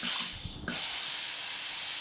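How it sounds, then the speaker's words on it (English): A Philips GC9630 steam generator iron lets out a continuous loud hiss of steam. The sound dips briefly, then resumes and carries on steadily with a slight mechanical click, alone with no talking. "See, I have released my hand and the steam keeps going out."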